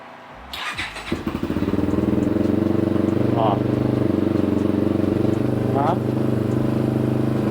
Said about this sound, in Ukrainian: перший раз зараз заводимо мотоцикл